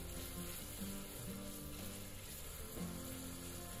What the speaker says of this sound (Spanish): Vamos a remover naturalmente para que no se nos queme.